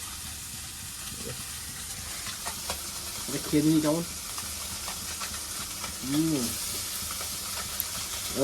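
Small puti fish fry over an open outdoor fire on a cold night, giving a continuous sizzling hiss. A voice speaks briefly over it, and a couple of louder bursts rise above the frying.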